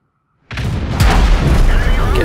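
A tank cannon fires in World of Tanks, an FV 4005 Stage II: silence, then a sudden loud boom that rolls into a sustained heavy rumble and crackle, with a second surge of noise just after.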